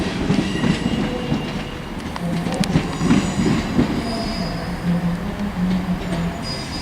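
A train rolls past close by at Shrewsbury, wheels rumbling and clacking on the rails with occasional high squeals, steady and loud throughout.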